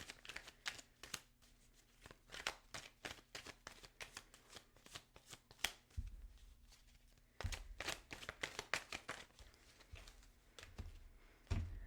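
Tarot cards are shuffled in quick rapid riffles and flicks, close and fairly quiet, with a brief pause in the middle and a few soft thumps as cards are handled.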